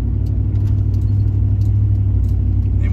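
A truck engine runs at a steady, deep idle, its low rumbling throb close and continuous with faint ticking on top.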